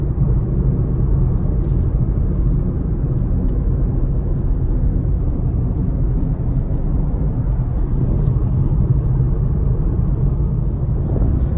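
Steady, continuous road rumble and engine drone from inside a car driving along a road, loud and even throughout with no talking.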